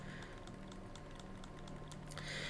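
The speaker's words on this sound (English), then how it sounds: "Keep typing on your keyboard." Steady typing on a computer keyboard, with rapid, irregular key clicks running throughout at a low, close level, ending in a brief flurry.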